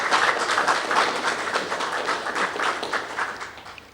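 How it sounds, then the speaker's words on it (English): A small group claps together, dense patter of hands that gradually fades out toward the end. "Let's all please give Professor Bewaji a round of applause."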